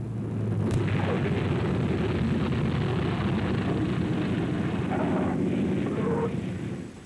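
A P-47 Thunderbolt fighter plane lands rough, with a loud, dense, continuous engine and airframe roar that stays steady throughout, close and alone, easing off slightly near the end.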